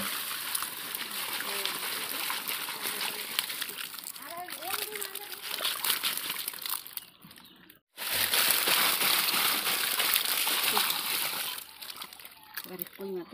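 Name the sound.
splashing water while washing freshly caught fish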